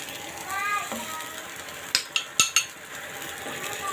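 A metal spatula clanks and scrapes against a pan in a few quick, sharp strokes while fried shing fish are lifted out of a potato and onion curry, with faint kitchen background noise.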